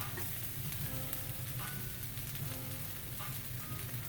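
Garlic goes into onions already sizzling in a skillet for enchilada rice, giving a steady, dense frying hiss with faint scrapes throughout and no talking.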